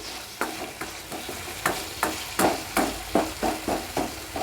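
Tomatoes and curry leaves cook in a pan for a veldt grape (nalleru) chutney, with a steady series of rhythmic stirring scrapes over a low sizzle, close and moderately loud, with no talking.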